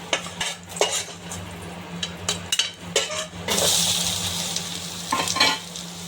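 Crushed almonds fry in hot ghee in a pan, with a steady sizzle under repeated stirring, scraping and clinks of a metal spoon against the vessel, the hiss swelling louder midway.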